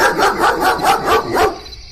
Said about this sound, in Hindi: अचानक दूर से कुत्तों के भौंकने की आवाज आई।